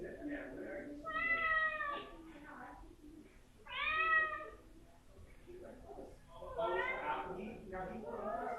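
A pet cat named Cashmere meows three times in drawn-out, rising and falling calls, close by and fairly loud, with a voice talking softly between and beneath them.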